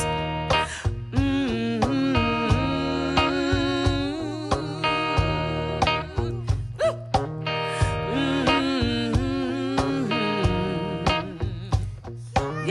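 A group of voices moans together in long, wordless, wavering tones, with rhythmic accents punctuating the sustained sound at a moderate, even volume.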